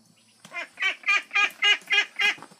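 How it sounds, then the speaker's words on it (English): A male duck (drake) honks seven times in a quick, even series, fairly close and loud, with nothing else around it. "I think this one's a Drake. Flippo, that is."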